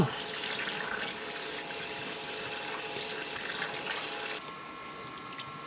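Running tap water pours steadily over salted, thawed frozen yellow croaker being rinsed in a sink, a constant close splashing hiss that eases slightly near the end.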